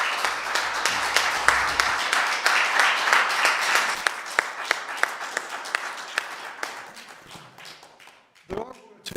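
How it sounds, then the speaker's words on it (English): A lecture audience breaks into sustained applause, dense clapping that gradually thins and fades toward the end, followed by a brief voice speaking. "we'll do that by a round of applause."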